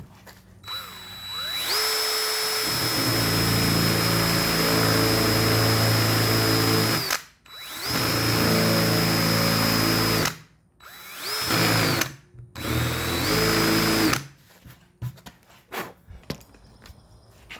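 A power drill bores holes in plywood for a treadmill running board, with several whining bursts of rising and falling motor pitch separated by short pauses, then quieter handling and footsteps.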